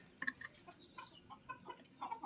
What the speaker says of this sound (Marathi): आपल्याकडं कोंबड्या कमी आहेत पन्नास कोंबड्या आहेत